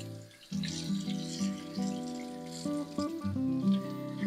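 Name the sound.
tap water rinsing soap off a circuit board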